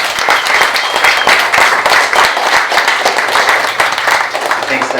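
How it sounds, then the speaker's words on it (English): A room of attendees at a brand measurement event breaks into loud, sustained applause, brisk clapping throughout with faint voices mixed in. "Big round of applause."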